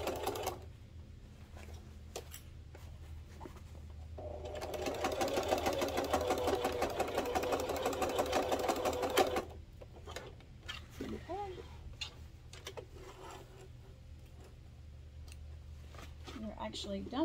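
A sewing machine runs a single sustained burst of about five seconds while stitching the flap of a fabric car trash can, bracketed by quieter handling sounds, with a person talking nearby.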